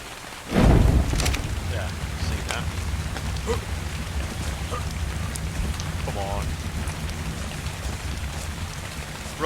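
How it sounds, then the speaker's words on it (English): Steady rain falls in the Ark Survival video game, a constant hiss of drops striking surfaces, opening with a brief sharp burst of noise and carrying on evenly throughout. "Stop raining, that's good."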